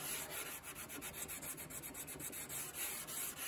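A wooden block's edge rubs back and forth against the wooden molding of an 1867 Chickering 33B piano under restoration, giving a steady, close scratchy sanding that runs without pause and without talk.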